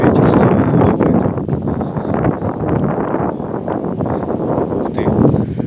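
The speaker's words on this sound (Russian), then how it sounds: "ветер сильно задувает." Strong storm wind gusting and buffeting the microphone in Arkhipo-Osipovka on the Black Sea coast, a loud continuous roar with shifting surges.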